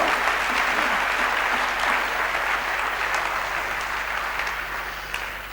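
A church congregation applauding during a worship service: sustained, dense clapping from many hands, loud and even, tapering slightly toward the end.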